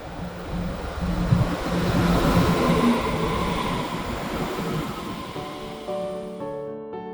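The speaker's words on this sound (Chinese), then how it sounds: "6点07分，搭乘太鲁阁402车次，从松山到罗东" Taroko Express train 402 running from Songshan to Luodong, a steady rolling rumble and rushing hiss from the carriage, with tonal chimes or a melody emerging toward the end.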